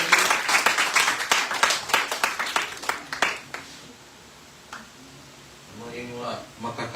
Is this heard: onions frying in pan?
no